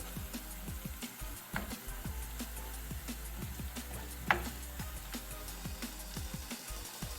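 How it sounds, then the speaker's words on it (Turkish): Pepper paste and tomato paste fry in a pan with a low, steady sizzle, broken by frequent small clicks and scrapes of stirring. The sound is quiet and close, with no talking. "Salçamız da 1-2 dakika kavruldu."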